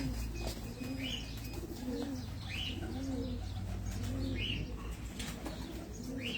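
Pigeons on a rooftop in Abu Dhabi coo close and clearly in repeated rolling calls, over a steady background hum and with a hint of wing flutter.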